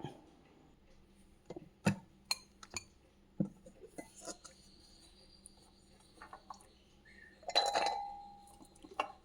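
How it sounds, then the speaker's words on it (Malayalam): Scattered plastic clicks and clacks from a small kitchen chopper chopping peeled jackfruit seeds, ending in a brief whirring rattle with a faint whine. "ഇനി ഇത് ഞാൻ ചോപ്പറിലോട്ടിട്ട് അരിയുക"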